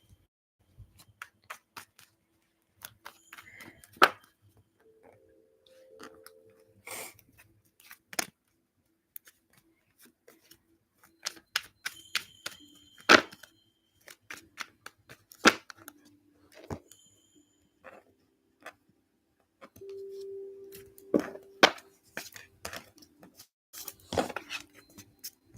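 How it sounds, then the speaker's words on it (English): Tarot cards being shuffled by hand, producing irregular bursts of soft riffling clicks and snaps, close and quiet, with occasional brief rustles in between and no talking. "Just give me some time here to shuffle these"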